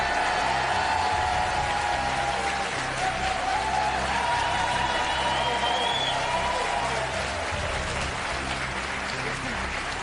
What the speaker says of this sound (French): Merci d'accueillir nos 7 nouvelles grosses têtes et de les applaudir comme il se doit.